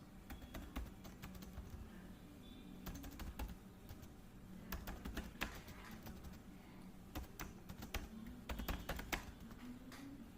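Computer keyboard typing in bursts of quick key clicks with short pauses, close and steady, no voices, while setting up software on a Windows PC.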